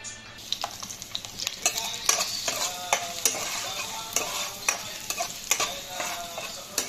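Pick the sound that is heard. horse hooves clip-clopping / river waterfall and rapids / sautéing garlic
sautéing garlic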